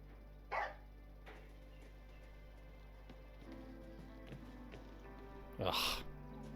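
A dog barks in the video game Broken Roads: two short, loud barks, one near the start and one near the end, over a low, steady in-game ambient hum.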